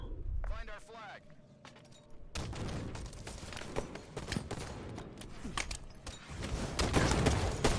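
Rapid cracks of gunfire and blasts erupt in a capture-the-flag video game match. A quieter opening gives way to dense, sharp bursts that build toward the end, with a voice talking throughout.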